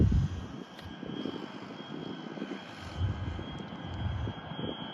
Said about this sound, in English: They're very powerful engines. That's why you're hearing is the engines.